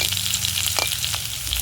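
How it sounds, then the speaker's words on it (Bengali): Dried red chillies and panch phoron fry in hot oil, a loud close, continuous crackling sizzle with a couple of short stirring scrapes and no voices. "লঙ্কাগুলোকে ভালো করে ভেজে নেব"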